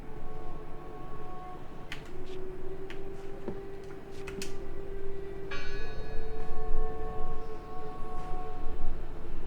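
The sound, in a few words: bell ringing in the video game Draugen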